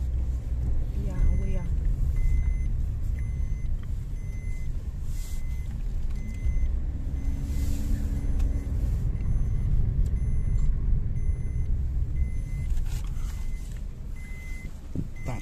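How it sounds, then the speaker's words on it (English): A car moving slowly through a McDonald's lot in Tombs of the Kings, Paphos, with a steady low engine rumble and road noise throughout, heard from inside the vehicle. "And now we'll drive a little bit."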